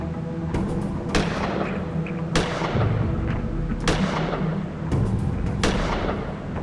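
Gunshots in the adventure game Gemini Rue ring out one at a time, a handful of sharp, loud reports spaced a second or so apart over steady background ambience.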